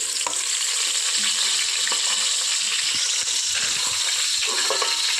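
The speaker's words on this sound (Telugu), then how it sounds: "పుదీనా ఫ్రై చేసుకున్నాక" Mint leaves fry in a pan for mutton dum biryani, a steady bright sizzle that fills the whole clip, with occasional soft clicks and stirring scrapes close by.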